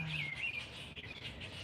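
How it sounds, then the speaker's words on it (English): Birds chirp and tweet outdoors on a hot evening as the sun goes down in Hawaii, a steady layer of bright calls at moderate distance with no talk over them. "Birds sound happy."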